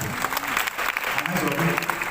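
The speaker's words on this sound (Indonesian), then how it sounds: "Tepuk tangan yang beriman." A church congregation claps during a sermon, dense applause that is loud and close throughout the short stretch, with voices mixed in.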